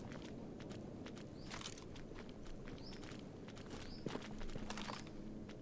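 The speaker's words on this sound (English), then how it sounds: "I swear I heard footsteps." Footsteps crunch through a dense outdoor ambience in S.T.A.L.K.E.R. GAMMA, set in the Chernobyl Exclusion Zone, as several irregular steps sound at moderate distance over a steady background bed without talk.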